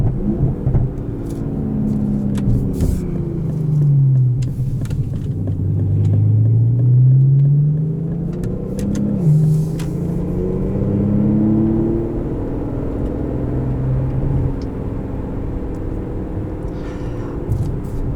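Aston Martin DB11 with a V12 engine, heard from inside as it slows under braking: a loud, deep engine drone that swoops down and up in pitch, with scattered sharp exhaust pops and crackles on top.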